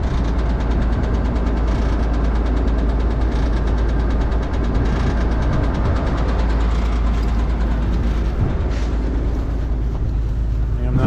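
Corn harvester running hard with a slipping clutch, a dense, loud mechanical clatter and rumble held steadily close by, with repetitive snapping folded into the engine noise.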